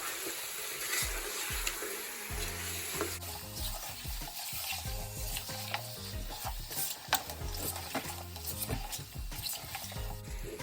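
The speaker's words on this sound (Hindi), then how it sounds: "और इसको मिक्स करेंगे अच्छे से" Chicken tossed with cumin powder and dried coriander powder fries in a pot, with loud rhythmic scraping stirs over a constant close sizzle and no talking.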